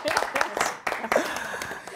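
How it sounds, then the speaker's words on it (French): Brief applause and clapping rises from an audience at a talk on property investment and personal finance, broken into short bursts with speech running alongside it. "Applaudissez."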